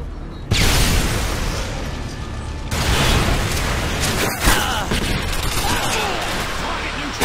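A grenade explodes in a capture-the-flag shooter game with a loud, sudden blast, followed by a second burst and sustained rumbling noise and mechanical clatter, with voices over it.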